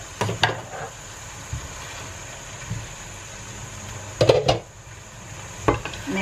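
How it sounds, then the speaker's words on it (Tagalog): Spatula scraping and clinking against a pan while stirring pancit bihon noodles with sardines, a few sharp metallic knocks spaced out over a low steady hum. "Mix lang po siya ng maigi."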